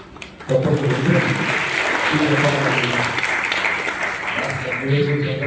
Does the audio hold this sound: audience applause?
yes